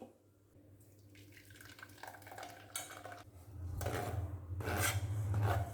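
Blended watermelon juice with lemon, pepper and mint is pushed through a strainer, making a wet scraping and stirring rasp against metal that grows louder and busier toward the end.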